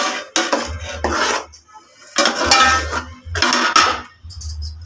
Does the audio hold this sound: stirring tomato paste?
yes